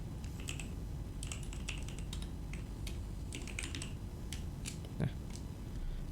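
Keystrokes on a computer keyboard entering a command-line instruction: scattered, fairly faint clicks in uneven bursts over steady background hiss, with one slightly louder tap near the end.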